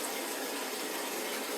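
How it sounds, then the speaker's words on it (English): Running water pours steadily into a bucket as it is rinsed out, a brief, continuous, close hiss of flowing water with no other sounds. "I'm going to start by rinsing out this bucket"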